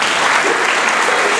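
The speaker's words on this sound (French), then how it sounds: "Est-ce qu'on peut acclamer chacun pour son don?" An audience claps loudly and continuously at a Christian gala in Montreal to acknowledge donations, a dense, even burst of applause from a close crowd.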